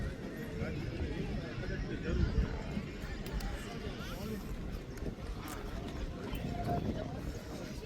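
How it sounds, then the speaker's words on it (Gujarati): Marwari mare arriving at a horse show in Wankaner, with hoof clip-clops and a neigh over constant crowd chatter and outdoor bustle. "બીજી ઘોડી આવે છે."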